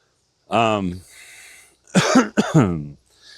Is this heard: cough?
yes